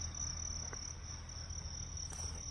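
A fighting cricket chirps in a steady, unbroken high trill, close and clear over a faint low background rumble, with no voices.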